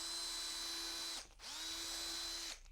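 Small power drill running steadily as it widens a hole to 3 millimeters, two sustained bursts with a brief pause between as the motor spins down and restarts; close and loud, no talk.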